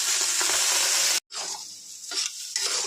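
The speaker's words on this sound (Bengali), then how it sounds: "গোবিন্দ ভোগ চাল আমি ভাজবো, এই জন্য আমি একটু তেল নিয়ে নিলাম, অলিভ অয়েল।" Gobindobhog rice sizzles and crackles while being fried and stirred in olive oil, a steady close hiss broken by a brief silent gap and scraping stirs.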